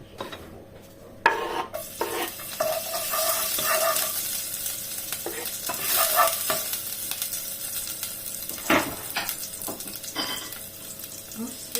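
Patola with a couple of shrimp frying in a hot pan, a steady sizzle under repeated scraping and stirring strokes with occasional clinks of utensil on pot, fairly close and continuous.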